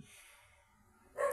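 A dog gives a single short bark close by at the end, after a second of quiet room noise.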